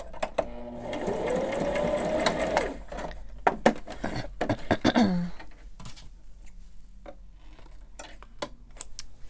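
A sewing machine stitches a pocket into a paper junk journal page built from magazine material, running steadily for a few seconds, then stopping, followed by close handling clicks and rustles.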